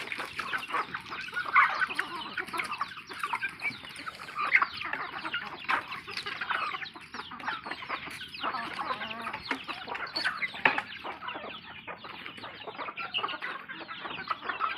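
Many chickens cluck and squawk continuously, a busy overlapping flock with occasional louder calls.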